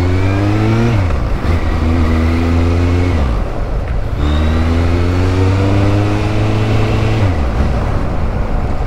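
A Kawasaki Z800 motorcycle fitted with a silencer exhaust rides along a road, its engine rising through the gears in repeated climbing sweeps with short drops between shifts, loud and close throughout.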